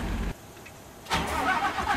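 A car-like engine in a flight video game, serving as an aircraft ground power unit, starts up after a short burst and a pause, then runs with a mid-pitched hum.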